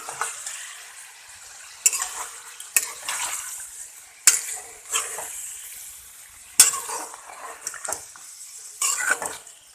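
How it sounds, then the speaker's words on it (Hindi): Chicken frying in a karahi for Peshawari charsi karahi crackles with a bright sizzle, broken every second or so by sharp metal clanks and scrapes of a spoon stirring against the pan. "तो फ्राई करेंगे।"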